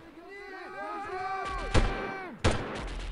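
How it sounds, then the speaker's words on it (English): Gunfire in the video game Delta Force during a snowy Novaya Zemlya mission: two sharp, loud shots ring out over a continuous hum with talk underneath, with a few sweeping tonal tones before them. "Maybe I should go ahead and start shooting already, huh?"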